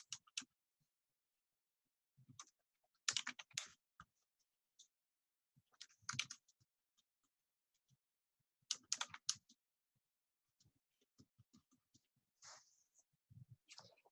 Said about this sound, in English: we're going to type what you see on page 22